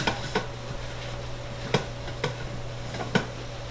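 An Instant Pot insert being wiped out at a kitchen sink, giving a few scattered metallic knocks and soft rubbing scrapes over a steady low hum, close and moderately loud.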